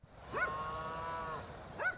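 Cows swept away by floodwater in New South Wales, Australia, giving a long drawn-out moo, with a second call starting at the end, clear and somewhat distant against quiet background.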